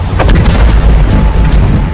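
A deep, rumbling boom from an asteroid impact explosion rolls on for the whole stretch as a heavy, sustained low roar with crackling bursts riding on top, loud and close, with no voices.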